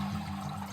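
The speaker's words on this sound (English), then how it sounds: "Pour water on it, it kind of unfolds" Water is poured onto a dehydrated paper towel on a hiking trail, a brief, soft splash and trickle heard alone.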